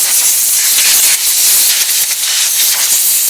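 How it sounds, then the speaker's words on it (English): Compressed air hisses steadily and loudly, blowing sand off an oven-cured car part from a restored Evo 8, the blast running almost unbroken before cutting off abruptly. "Let's get all the sand off of it"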